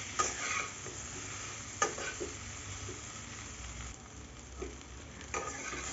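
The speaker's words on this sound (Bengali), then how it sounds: "এবার ভালো করে নেড়ে চেড়ে আদা লঙ্কার সঙ্গে সবজিটা ভালো করে কষে নেব।" Mixed vegetables sauté with crushed ginger and green chili in a pan, a steady close sizzle broken by a few sharp scrapes and knocks of a spatula stirring through them.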